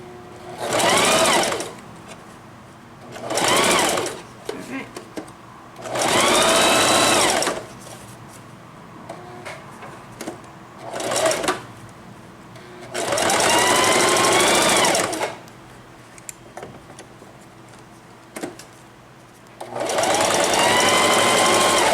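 A sewing machine stitches new seatbelt webbing onto an old belt in several loud bursts of rapid mechanical clatter, separated by short pauses with faint handling noises.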